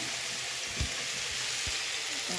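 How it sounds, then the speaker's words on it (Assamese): Tomatoes, onions and capsicum frying in a pan, a steady close sizzle with a few faint stirring scrapes and no talk. "এতিয়া মই এইখিনি ধুনীয়াকৈ ইয়াতে ফ্ৰাই কৰি দিওঁ"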